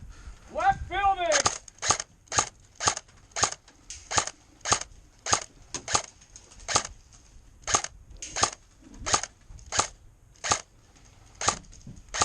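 Airsoft SA58 FAL rifle with a suppressor fires roughly seventeen sharp, close shots at a steady, evenly spaced pace, with a brief voice calling out just before the first shot.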